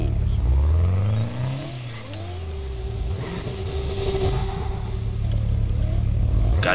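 A Zensky car in a Roblox drifting game revs loudly, its engine pitch rising and falling through gear changes before settling into a sustained high drone.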